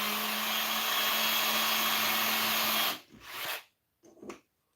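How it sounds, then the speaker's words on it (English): Cordless drill running steadily at high speed with a whining motor hum, close and loud for about three seconds, then cutting off before two brief further bursts. "The drill."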